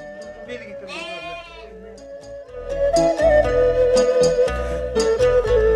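Sheep bleat on a livestock farm raising sheep and horses, several nearby animals calling out in overlapping cries over soft background music.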